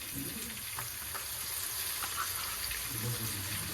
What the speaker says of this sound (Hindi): इसमें जो ये ऑयल है इसमें अब डालूँगी मैं लहसुन अदरक